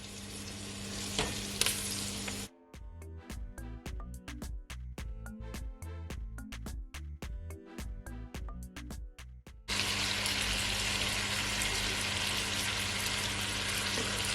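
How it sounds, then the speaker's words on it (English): Jamaican curry goat sautes in a pot with a loud, steady sizzle that gives way to a stretch of rhythmic stirring clanks and knocks, then the dense frying hiss returns strongly. "I'm just gonna leave it to saute for at least 4 to 5 minutes"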